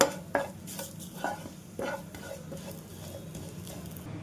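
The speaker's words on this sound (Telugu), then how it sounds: "ఆ గార్లిక్ పేస్ట్ కూడా ఇందులో వేసుకుని ఒకసారి పచ్చివాసన పోయేంత వరకు వేయించుకుందామండి" Garlic paste sizzling in hot tempering oil for a soyabean masala curry, with close utensil clinks and scrapes as it is stirred, a few sharp taps early, then a steady low frying hiss.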